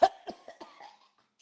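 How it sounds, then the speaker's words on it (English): A single sharp cough up close, followed by a few weaker coughing bursts that trail off into silence. "I have to cough like crazy."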